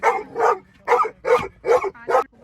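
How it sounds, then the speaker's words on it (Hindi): A pet dog barks six times in a steady, evenly spaced series, loud and close by, each bark sharp and short with a brief pause between, while out on a street and reacting to passing dogs. "हर जाते हुए कुत्ते पे भौंक रहा है"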